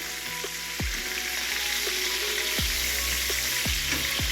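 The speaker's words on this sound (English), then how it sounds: "And you see how nice that is sizzling?" Food sizzles steadily in a hot pan, a close crackling hiss with a few soft clunks and scrapes from stirring.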